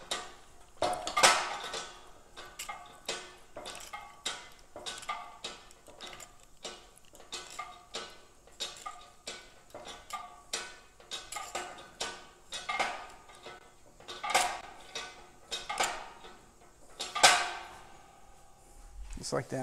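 A shrinker stretcher mounted on a stand works a strip of 18 gauge scrap metal with repeated sharp metallic clanks and clicks from the jaws and lever, falling in irregular bursts.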